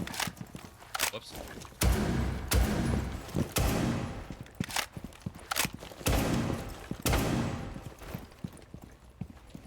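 Hip-fire gunshots in the Rainbow Six Siege video game: repeated sharp bursts and thumps spread across the clip at moderate loudness, mixed with movement noise and game sounds.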